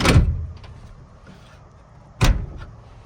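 Car door on an Eagle Summit / Mitsubishi Expo with a broken door handle, closed twice: a sharp thud at the start, quiet mechanical rattling, then a second firm thunk near the end, close up with no talk.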